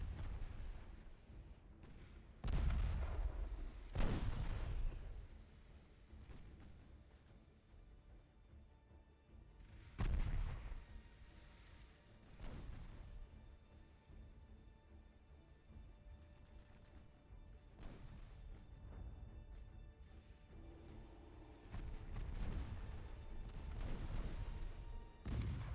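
Battleship and cruiser guns fire in a naval battle in Ultimate Admiral Dreadnoughts, heavy booming shots spaced several seconds apart over low rumbling ambience, some loud and near, others more distant.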